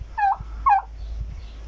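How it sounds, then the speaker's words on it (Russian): A North Caucasian turkey tom on a village farm gobbles twice in quick, close bursts of rattling calls, then goes quiet. Faint background noise remains underneath. "Это индюк."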